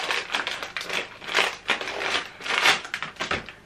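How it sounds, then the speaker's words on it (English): Festive wrapping paper crinkles and rustles steadily as a gift is unwrapped up close, with bursts of louder crumpling and tearing. "Loving the choice of wrapping paper."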